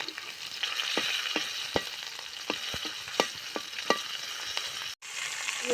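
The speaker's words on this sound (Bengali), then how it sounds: "রসুন বাজিয়ে নেবো এই শাক বাজাবো নেবো রসুন লাগিয়ে নেবো" Greens and garlic fry steadily in a pan with a constant sizzle, broken by the scrape and clack of a utensil stirring at irregular intervals, close and with no voices.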